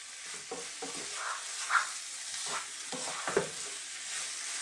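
Mushrooms and pork for a Jamaican curry sizzle in a pan under a constant hiss of frying, with occasional soft scrapes and clinks as the mixture is stirred up close.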